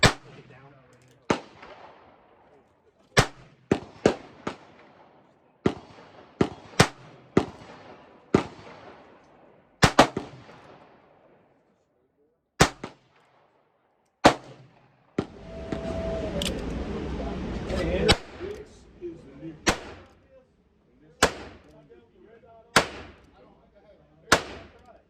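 Heritage Rough Rider handgun fired outdoors: about fifteen sharp, loud single shots spaced irregularly over the stretch, with a few seconds of broadband noise midway and people talking between shots.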